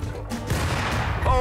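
A grenade blast in the Rust video game, set right beside the player instead of thrown, booms loud and close, followed by a sustained rumbling roar of noise.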